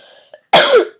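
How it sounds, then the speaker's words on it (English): A person gives a sharp, loud cough followed by the start of another, close to the microphone after a faint tone. "I'm very sorry, I have a bit of a cough."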